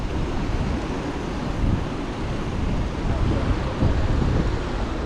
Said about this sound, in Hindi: आवाज़ आ रही है आपको पानी की।